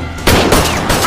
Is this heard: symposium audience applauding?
no